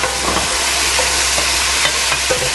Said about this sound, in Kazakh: Қызып тұрған майымызға осылай пиязды қуырып, помидорымыздың ішінен шыққан осындай соғын салып қуырып аламыз.